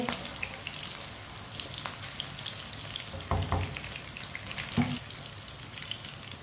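Chopped onions fry in a pan with a dense, crackling sizzle that holds steady throughout, broken by a couple of louder stirring knocks near the end; no one speaks.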